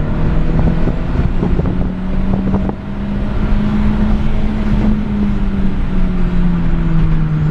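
An unmuffled Chevrolet Vectra GT accelerates hard toward 100 km/h on a slipping clutch; a loud, rough engine note climbs and holds steady amid heavy wind buffeting, with a brief dip partway through.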